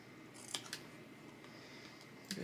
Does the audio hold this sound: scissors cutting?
yes